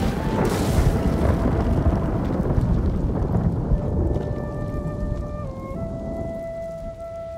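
Thunder from a lightning strike rumbles loud and near in Ghost of Tsushima, a heavy sustained roar with rain-like hiss that gradually fades while a few steady musical tones rise underneath.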